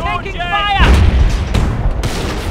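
Heavy artillery barrage in the World War II strategy game Company of Heroes: Opposing Fronts, loud deep booms rolling into a sustained rumble, with a radio voice at the start.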